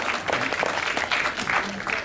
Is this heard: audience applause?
yes